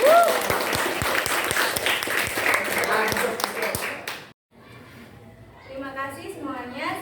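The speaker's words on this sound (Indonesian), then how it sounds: "Tepuk tangan dulu." A classroom group claps together after a student presentation, a brisk burst of hand claps with distinct sharp hits that stops abruptly, followed by students talking.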